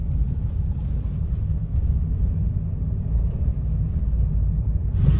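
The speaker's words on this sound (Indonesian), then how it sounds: "Suara mesinnya bagusnya terasa teredam di RPM rendah" Steady low rumble of a 2016 Honda Jazz GK5 RS manual's 1500cc SOHC engine at low RPM while driving, muffled and even inside the cabin, with no talk.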